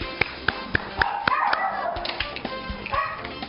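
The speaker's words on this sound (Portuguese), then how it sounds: "eu já ouvi o latido dos cães" Several dogs at the house where they are kept bark in short, sharp bursts, some yelps and whines among them, close and repeating irregularly throughout, with faint voices in the background.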